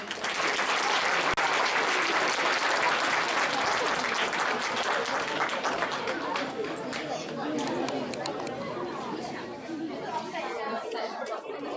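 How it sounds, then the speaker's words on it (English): Audience at an Indian Republic Day celebration gives a full round of applause, dense clapping at first with crowd chatter mixed in, gradually thinning and quieting toward the end. "Please welcome them on the stage with a round of applause."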